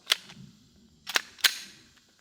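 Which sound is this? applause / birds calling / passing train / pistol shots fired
pistol shots fired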